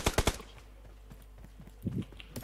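Gunfire sounds in a shooting video game: a quick burst of three sharp shots at the start, then quieter scattered pops and a couple of further shots, with no speech over it.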